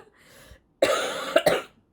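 A person coughs several times in a quick, harsh burst at close range, following a faint murmur.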